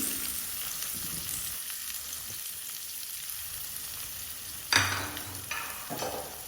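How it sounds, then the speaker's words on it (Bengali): Chopped onions frying in hot oil with a bay leaf, a soft steady sizzle that flares into louder crackling and scraping bursts toward the end. "তেলটা গরম হয়ে গিয়েছে এখন দিয়ে দিচ্ছি পেঁয়াজ কুচি"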